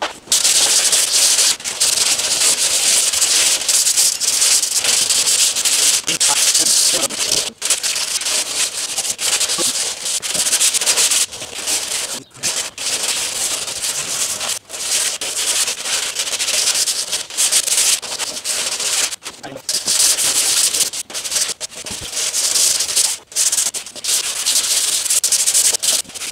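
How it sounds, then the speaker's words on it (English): Someone hand-sands body filler on the bodywork of a Lexus LS400, producing loud, rasping strokes at close range in long runs broken by short pauses. "other side's dry now, so we can start sanding it"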